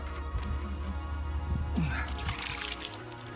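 Water runs and splashes steadily nearby while rinsing pork during butchering, a continuous pouring trickle with low handling noises underneath.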